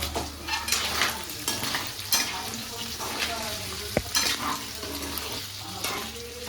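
Mutton frying until dry in a pan with chili powder, a steady close sizzle with stirring scrapes and occasional utensil knocks, one sharp clack partway through.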